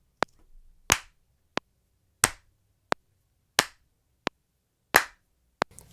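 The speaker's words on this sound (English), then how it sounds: "Let's go ahead and record some claps just to get a rhythm going" Close, crisp hand claps recorded for a percussion loop, about nine sharp hits in an even alternating pattern, some dry and some with a short room tail, separated by silence.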